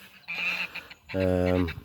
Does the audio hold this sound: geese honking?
yes